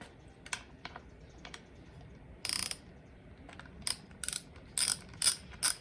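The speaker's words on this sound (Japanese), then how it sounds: "ライトケース固定ボルトを外していきます。" A hand ratchet clicks in short, quick bursts while loosening the headlight case bolts on a Honda Monkey 125 motorcycle, the sharp metallic clatter growing louder and denser toward the end.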